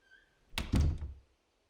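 Door closing in a video game, a solid wooden thunk followed by a short rattling latch, close and fairly loud against near silence.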